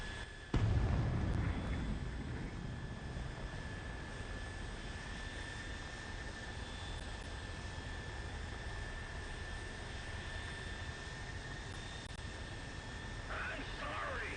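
Engines of B-52 bombers in the War Thunder video game make a steady, dense roar that holds evenly from start to finish after a brief louder onset near the beginning.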